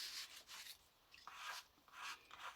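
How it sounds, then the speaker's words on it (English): A scraper drawn gently over a stencil on a gel printing plate, faint soft rubbing strokes in short repeated passes, quiet and close. "I'm just going to take a scraper and I'm just going to gently run over the top of my stencil"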